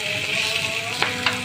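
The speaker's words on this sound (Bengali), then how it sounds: "আমি আগে মাছটা ভাজা শুরু করে দিয়েছি" Rui fish fries in a pan, a steady close sizzle of hot oil with two brief sharper crackles near the end, no voices.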